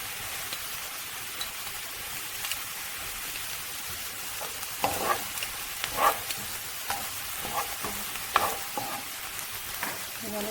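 Chopped garlic sizzles and fries in a pan for shakshuka while a utensil stirs it, giving a steady hiss with scattered scraping clicks, close and moderately quiet, no voices.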